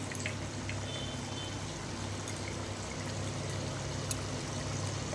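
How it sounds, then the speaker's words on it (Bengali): Ghee being poured into a simmering vegetarian cauliflower, potato and paneer curry, heard as a steady, even hiss of liquid and bubbling that holds at a constant level throughout, with no voices. "এবার নামানোর আগে এর মধ্যে দিয়ে দেবো হচ্ছে ঘি"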